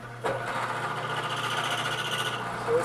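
Milling machine fitted with a 7/8 cutter spinning up to speed: a sharp start, then a steady, close mechanical whir with a constant hum and a faint rhythmic chatter. No one talks.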